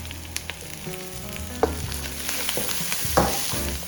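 Carrots stir-frying with squid in Korean sauce in a hot pan, a steady close sizzle broken by a few sharp spatula scrapes and clacks against the metal, with no voices.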